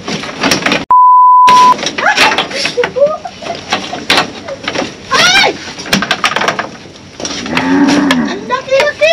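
A cow moos loudly in several drawn-out calls, mixed with clattering noises and a short electronic bleep tone, close and prominent throughout.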